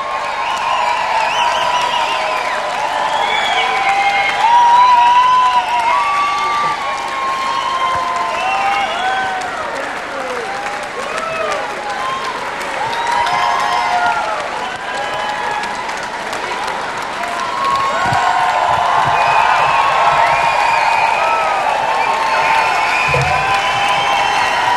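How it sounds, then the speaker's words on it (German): Audience applauding after a fashion show on stage, with dense sustained clapping mixed with cheers and whoops from a large crowd, loud and continuous throughout, with a voice calling out over it. "Applaus."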